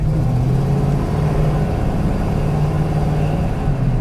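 A 1970 Plymouth Cuda with a 440 Six Pack V8 rumbles steadily while driving, its loud, deep engine drone holding nearly constant close up with slight swells in load and no talk.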